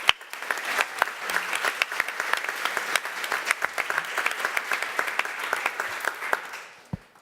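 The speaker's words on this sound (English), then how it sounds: "just a huge round of applause and thank you to our semifinalists" An audience at a beverage competition gives a sustained round of applause, dense steady clapping for about seven seconds that cuts off sharply at the end.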